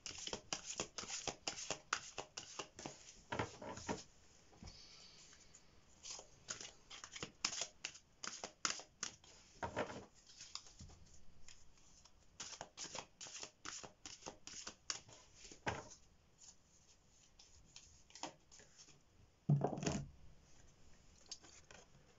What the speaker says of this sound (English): I will pull you an angel card as well before we finish.